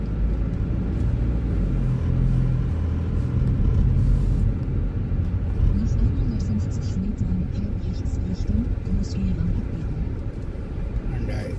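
A car drives through the streets of Frankfurt, Germany, producing a continuous close road and engine rumble throughout, with a voice present at times.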